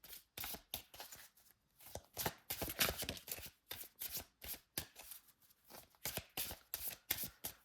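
Overhand shuffling of an oracle card deck: a steady run of crisp, riffling card flicks in quick bursts, close and fairly quiet, with no talking.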